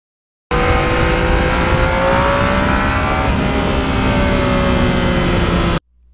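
A Yamaha MT-09 motorcycle riding twisty country roads and hills, its engine droning steadily and loudly up close with rising and falling pitch as it accelerates, mixed with wind rush, for about five seconds before cutting off.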